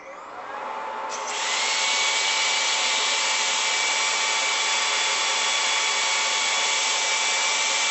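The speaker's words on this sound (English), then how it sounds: "then we'll start sanding" A power sander whirs loudly and continuously on wood, its motor ramping up over the first second into a steady, high-pitched grinding hum.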